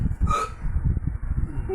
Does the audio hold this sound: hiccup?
yes